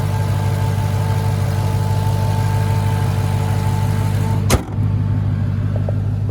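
A 6.2-liter supercharged V8 in a 2023 Dodge Charger Hellcat Widebody Jailbreak idles with a steady, deep, close rumble, broken near the end by a sharp click and a brief dip before the idle carries on.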